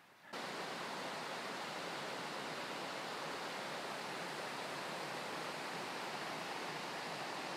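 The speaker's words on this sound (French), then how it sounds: "j'ai trouvé la partie intéressante de la cascade" A waterfall cascades in a steady, dense roar that starts abruptly and holds constant and loud throughout, a broadband rushing hiss with no voices.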